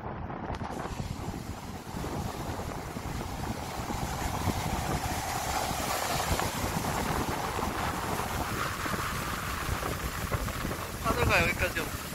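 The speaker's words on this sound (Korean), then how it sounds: "파도 소리 한번 들어보시겠어요?" Waves wash onto an East Sea beach in autumn near a lighthouse, a steady broad roar of surf mixed with strong wind buffeting the microphone, with faint voices in the background.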